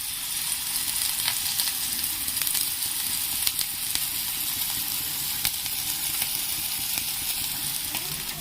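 Onions frying in oil in a pan with quail eggs and capsicum, a dense, even, close sizzle lasting throughout with faint scrapes of stirring.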